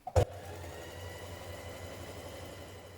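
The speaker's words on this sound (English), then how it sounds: "Stitch your lining together at the side seams, front to back." Sewing machine stitching the side seams of a long coat's lining: a sharp click at the start, then a steady, rapid mechanical whirr and hum running close and even throughout.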